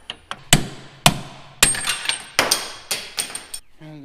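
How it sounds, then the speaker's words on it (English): Sharp metallic hammer blows on a socket and extension driving out an old wheel bearing on a 3000GT-type car, about eight loud, ringing strikes at an irregular rhythm, close up. "I'm gonna put this in there like that and just smack it to get it out."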